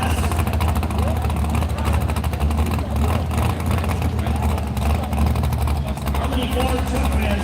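Diesel trucks competing in a diesel truck class at an event in Unity, Wisconsin, produce a loud, continuous low engine roar that holds steady throughout, with an announcer talking over it.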